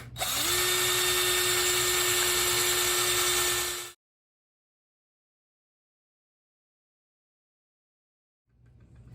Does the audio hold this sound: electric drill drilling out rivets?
yes